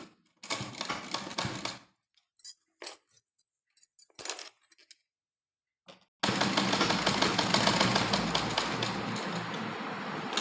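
A home sewing machine stitching thread piping starts in short bursts of quick mechanical clatter with pauses, then settles into a continuous fast, loud whirring run, close up with no voices.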